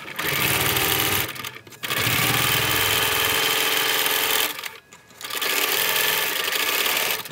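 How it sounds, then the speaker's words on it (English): A sewing machine runs steadily stitching a quarter-inch seam on a rectangle-center log cabin quilt block, humming loudly in three long bursts separated by two brief pauses, with no talking. "Let's go ahead and sew our 1/4 inch."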